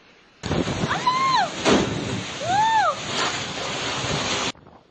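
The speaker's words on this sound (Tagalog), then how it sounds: "Halos walang maaninag dahil sa lakas ng hangin at ulang dala ng habagat at bagyong Inday." Strong wind and heavy rain lashing during a tornado and typhoon, a loud continuous roar with gusting swells and a couple of whistling tones rising and falling.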